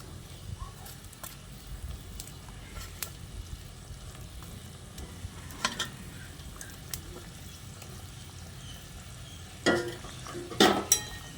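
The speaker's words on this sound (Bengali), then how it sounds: "এবার আমি এই কোপ্তাগুলো একে একে এর মধ্যে দিয়ে দিচ্ছি" Koftas dropped one by one into a simmering vegetarian pointed gourd (potol) curry in a pan, then stirred: a low, steady sizzle with soft scraping, and a few sharper clinks of the spoon near the end.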